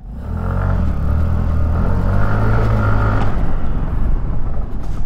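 Kymco SkyTown 150 scooter engine held at full throttle, a loud, close, continuous droning roar that eases slightly near the end, with no talk over it.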